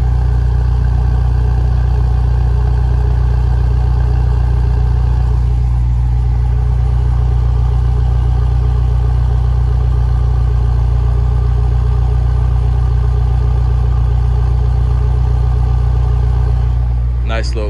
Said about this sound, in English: But she has a quiet idle.